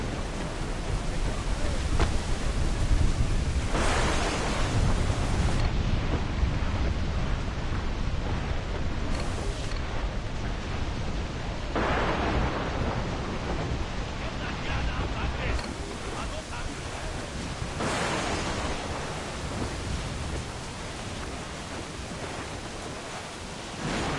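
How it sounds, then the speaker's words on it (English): A thunderstorm at sea in the video game Assassin's Creed 4 Black Flag: a continuous loud roar of wind and crashing surf, swelling in gusts for the whole stretch. "Storm, Captain! Looks bad!"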